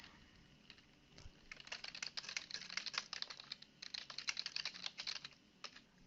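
Rapid keystrokes on a computer keyboard as a post's message is typed, a steady run of close, crisp clicks in bursts with short pauses, alone with no voices.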